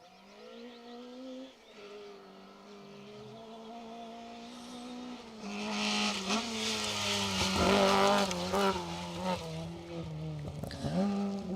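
A small Vauxhall Corsa rally car on a stage of the Plains Rally in the Welsh Rally Championship, its engine revving and shifting gears as it accelerates past close by, growing louder with some tyre noise.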